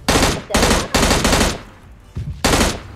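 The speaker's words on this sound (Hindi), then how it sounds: "सामने गाड़ी दिखती है जिसपे गोलियां चलाई जाती हैं" Loud bursts of rapid gunfire in PUBG Mobile Lite, aimed at a vehicle, come in several separate volleys with short pauses between, sharp and close.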